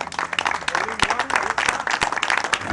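Applause from the audience at a lawyers' tournament event, a brief burst of steady clapping with broad noise throughout and faint voices mixed in.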